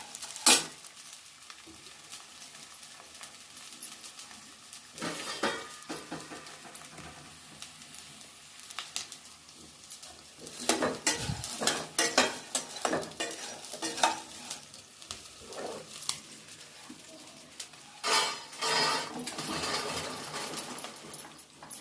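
Edible gum (dink) puffing as it fries in ghee, with a steady soft sizzle under repeated scraping and stirring strokes of a spoon in the pan, continuous and close.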